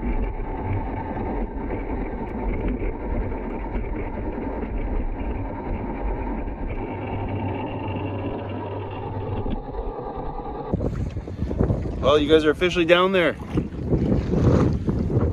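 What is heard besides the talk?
wind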